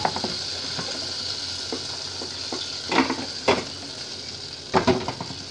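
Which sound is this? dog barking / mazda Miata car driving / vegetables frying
vegetables frying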